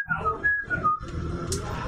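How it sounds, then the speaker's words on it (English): A person whistles a short wavering melody in a high clear tone, with a muffled low rumble of room noise underneath. "I start whistling."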